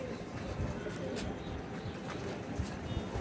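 Paired pigeons coo softly and repeatedly under a wash of background noise and faint voices, their low murmuring calls blending together at a modest distance.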